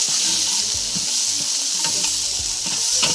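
Ground chili paste hits hot oil in a pan for a Bengali potol-aloo-posto dish, giving a loud, continuous sizzle with scattered stirring scrapes and spatters throughout.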